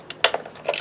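A ratchet works loose 10mm valve cover bolts on a 2003 BMW 525i, giving a quick, close burst of a few sharp metallic clicks.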